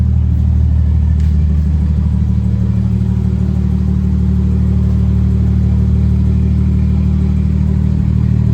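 A BMW F10 engine idles after a cold start on a lithium battery upgrade, giving a loud steady low rumble that holds constant throughout with no talking.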